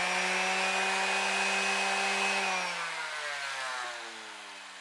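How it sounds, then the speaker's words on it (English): A power sander shapes a Corian guitar nut blank in one steady, close, loud whine that holds for a couple of seconds, then winds down as the motor slows to a stop. Nobody speaks. "I'll give it another quick hit with the sander."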